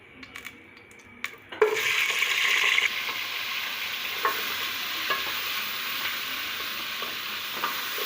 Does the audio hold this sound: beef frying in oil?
yes